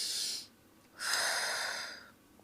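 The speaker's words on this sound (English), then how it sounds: "So let's take a deep breath." A person takes a deep breath up close: two airy, breathy rushes of air separated by a short pause, quiet and with no talking.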